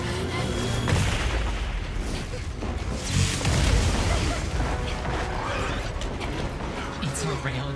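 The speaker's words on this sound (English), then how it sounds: "It's a railgun dragon." A railgun dragon fires in the Monster Hunter Wilds video game, producing repeated booming, gunfire-like blasts and mechanical clatter in a dense, loud barrage, with people talking over it.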